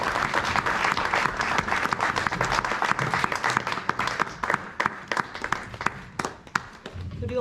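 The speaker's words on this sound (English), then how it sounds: "Could we all please give a very big round of applause to the graduating class of 2023." A graduation ceremony audience applauds, a dense crowd of claps that is loud at first, then thins into scattered, sharper individual claps toward the end.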